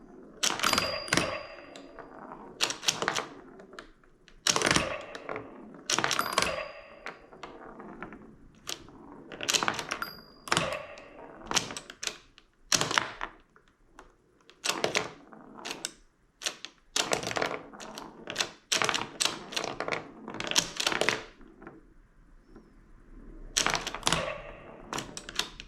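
A ROKR miniature pinball machine in play, with sharp mechanical clacks and thunks of flippers and ball hits in irregular bursts, close and fairly loud, spread across the whole stretch with no talking.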